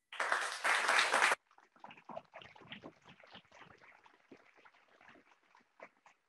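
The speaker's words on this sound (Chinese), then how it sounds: "要不要给他一个掌声一下？" A seminar audience at a marketing talk claps in a loud, dense burst for about a second, then the clapping trails off into scattered, quieter claps.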